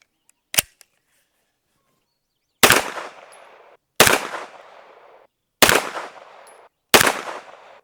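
Springfield Kuna 9mm carbine firing five Armscor hollow point rounds: one sharp report, a pause, then four loud evenly spaced shots about a second apart, each with a ringing outdoor decay, and no talking.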